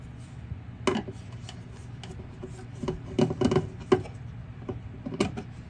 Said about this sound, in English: Looks like a few screws have to come out.